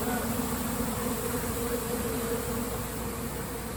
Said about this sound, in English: And this is the bees right here.